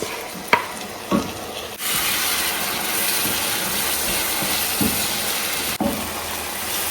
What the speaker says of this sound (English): go in with our fresh chopped tomatoes